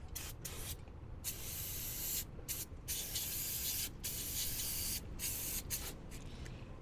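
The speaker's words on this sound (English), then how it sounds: "So spray it off with some brake clean while I'm here." Bursts of aerosol brake cleaner hiss onto the engine of a Ford F450 with a 6.7 Powerstroke, several long sprays broken by short pauses, close and steady with no talking.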